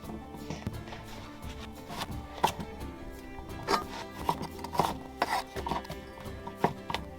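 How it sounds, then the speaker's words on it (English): A knife chops zucchini on a board while cooking pork stew in a camper van, giving a series of irregular, fairly faint taps spread across the stretch with quiet background noise. "Alright, let's continue chopping here. Let's get this zucchini."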